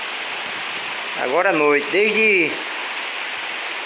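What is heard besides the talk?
heavy rain falling at night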